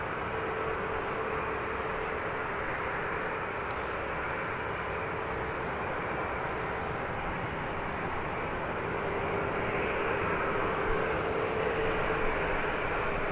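Jet engines drone steadily at Birmingham Airport as airliners, including EasyJet planes, queue and taxi for departure, a continuous low roar with a faint whine, heard from a distance and unbroken by speech.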